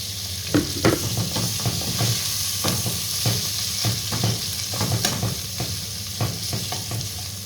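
Pork stir-fries in a hot pan with a steady, dense sizzle, punctuated by repeated scraping and clatter as the meat is tossed and stirred, close and continuous with no talking.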